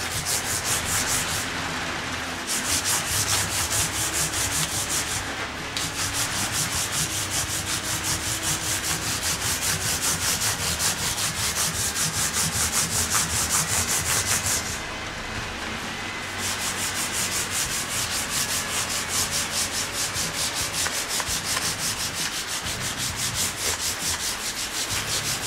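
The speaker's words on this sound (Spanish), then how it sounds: "es para darle un brillo característico y pulir el trasto como tal" Abrasive paper polishes the frets of a Mexican Fender Stratocaster, a loud, close, steady rasping rub in long strokes with two brief pauses, no voices.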